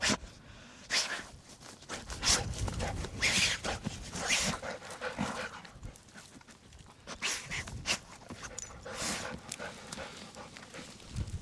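Dogs run about nearby, their bursts of panting and scuffling footsteps coming in uneven, breathy pulses at moderate loudness with no talking.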